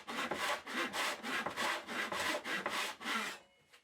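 A tenon saw cuts across a wooden board by hand, about ten steady rasping strokes in an even rhythm, close and loud, then stopping abruptly near the end.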